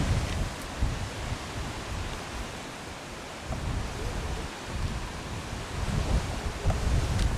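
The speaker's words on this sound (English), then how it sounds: "The wind is gusting." Gusting wind blows across an outdoor bowls green during a Western Province mixed pairs final, a steady broadband roar that swells and eases in loud, buffeting surges throughout, with no voices.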